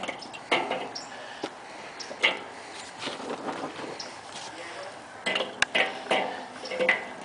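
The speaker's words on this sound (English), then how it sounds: "And we add 8 coals to each side." Charcoal briquettes, burned gray, dropped one at a time beside a standing rib roast on a grill, giving scattered light clinks and taps over a quiet, airy background.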